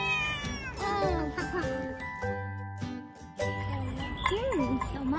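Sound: cat meowing

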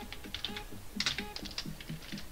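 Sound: typing on a computer keyboard

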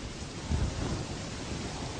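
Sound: heavy rain with thunder

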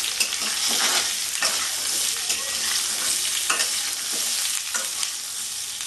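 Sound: green mango frying in oil

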